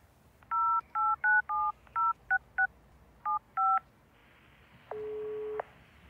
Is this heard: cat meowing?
no